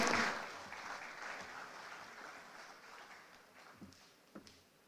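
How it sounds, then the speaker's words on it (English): Applause from the audience at the Niger Delta Agricultural Development and Investment Summit, fairly faint and distant clapping that gradually fades, with a few isolated claps near the end. "please put your hands together as we make welcome the Senior Special Assistant to the President, Dr. Kingsley Uzoma"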